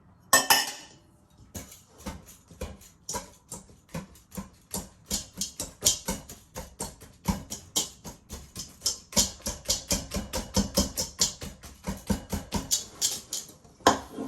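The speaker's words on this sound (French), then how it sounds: "Je rajoute mes bananes que je vais écraser avec mon fouet." A whisk mashes bananas in a bowl for a chocolate banana cake, giving a long run of rapid, rhythmic clinks and squishy taps against the bowl, close and fairly loud, with brief pauses.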